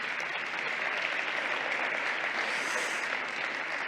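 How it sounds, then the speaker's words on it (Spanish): Steady audience applause at a conference, dense and continuous clapping filling the whole stretch at an even level. "aplauso, por favor."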